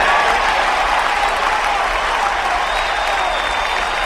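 Steady, loud crowd applause saluting the civil and military police of Santa Isabel do Rio Negro, a continuous wash of clapping with no breaks across the whole stretch.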